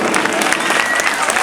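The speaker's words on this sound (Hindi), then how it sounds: "जोरदार तालियां।" Loud, dense audience applause at a dance party show fills the whole stretch without letting up.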